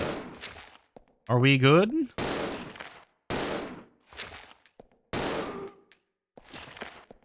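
Gunfire in the video game Resident Evil Zero comes as about six sharp shots in uneven bursts, close and punchy, with short silences between them. A voice speaks briefly between the shots.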